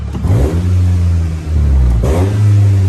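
A 2016 Nissan Teana engine, suspected of clogged injectors, is revved in two bursts; each deep, loud rise climbs in pitch, holds, then drops back toward idle before the second surge, close and with no speech.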